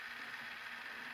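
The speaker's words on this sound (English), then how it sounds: "the bridge is going to run all the way to the end" A Walthers model railroad transfer table bridge running along its track toward an end sensor during calibration: a faint, steady mechanical whir and gear hum, continuous and unbroken over a brief moment.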